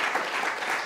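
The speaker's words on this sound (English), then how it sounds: "give yourselves a clap for turning up" An audience in a small room at a community event's opening remarks applauds steadily, a dense patter of many hands clapping at close range throughout.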